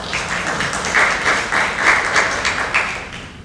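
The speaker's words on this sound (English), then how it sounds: "Let's give these guys a round of applause" A crowd claps steadily, a dense wash of applause that swells slightly then tapers, with no voices over it.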